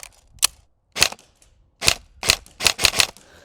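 Airsoft rifle with a bolt system fires several sharp, snappy shots, a single shot followed by a spaced string of loud close cracks with brief mechanical clacks between.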